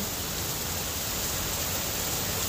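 Heavy rain mixed with hail pours down in a steady, dense roar, loud and continuous with no breaks.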